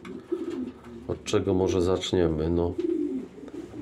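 Racing pigeons coo in a breeding loft, a couple of rolling, throaty calls close by, while someone talks over and around them.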